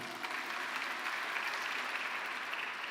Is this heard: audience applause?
yes